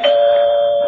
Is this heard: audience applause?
no